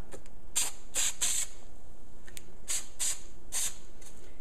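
Short hissing bursts from a spray can of adhesive, several quick sprays in two clusters separated by a pause, close and clear.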